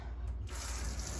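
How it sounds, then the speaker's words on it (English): Running sink water pours steadily as a scrubbing sponge with a gritty side is rinsed under the tap, a soft continuous hiss that swells slightly after a brief quieter moment. "So I'm just going to give it a quick rinse here."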